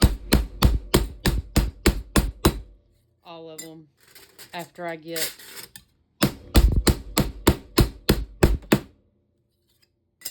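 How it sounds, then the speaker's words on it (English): Sharp metal hammer blows flatten copper ornaments in quick, even runs of about a dozen hits, pausing briefly while a voice speaks, then resuming with the same rhythm. "So I kind of just come in here and just hammer"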